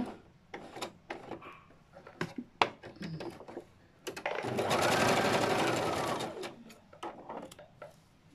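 A sewing machine stitches the finished neckline of a petticoat in one steady run of about two seconds mid-clip, set among scattered clicks and fabric handling before and after.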